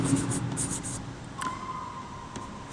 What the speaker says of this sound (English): I'm writing microorganism as a MO.